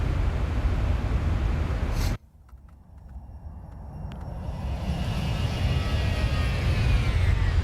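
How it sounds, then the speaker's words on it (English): Engines of a Boeing 737-800NG humming in X-Plane 11: a loud steady roar cuts off abruptly, then a quieter hum with whining tones builds gradually, with no voices. "we can hear the engines humming behind us"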